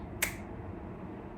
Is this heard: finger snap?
yes